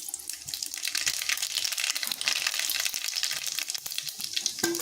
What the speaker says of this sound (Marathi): आता आपण सांबरला फोडणी देऊया। जिरे, मोहरी टाकून घेऊ त्याच्यामध्ये।